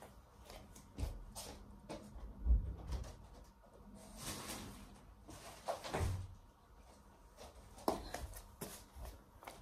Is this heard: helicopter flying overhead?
no